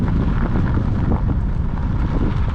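Strong wind buffeting a microphone during a bikepacking ride on Texas Lake Road, heading straight into a headwind; loud, continuous low rumble with gusty surges throughout, no talking.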